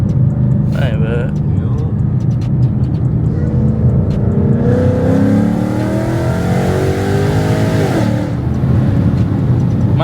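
A loud Ford Mustang engine revs and roars steadily throughout, rising in pitch midway, with people talking over it.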